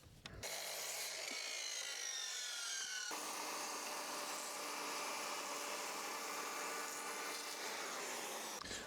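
A hand saw cuts a log cabin rafter to length with continuous, even rasping strokes, loud and close throughout, after a brief quiet start.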